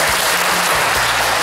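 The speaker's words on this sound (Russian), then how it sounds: "И аплодисменты!" Loud, dense audience applause fills a game-show style staring contest, a steady roar of clapping throughout with low rumbling tones underneath.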